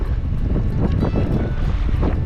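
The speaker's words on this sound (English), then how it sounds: "Pretty windy." Steady wind buffets the microphone on a river, a constant low roaring rush with gusty swells, heard alone without talk.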